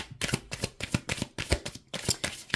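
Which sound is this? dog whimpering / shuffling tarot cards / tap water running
shuffling tarot cards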